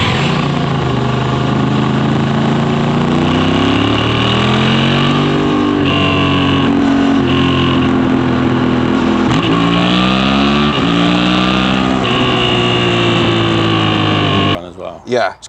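Honda Hornet 750 motorcycle engine running loud and close, revving up and down through several rising and falling pulls before cutting off, with voices talking over it.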